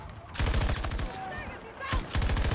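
A PKP-BP machine gun fires in the video game Battlefield 2042: two loud, rapid bursts close up, separated by a brief lull filled with fainter game noise.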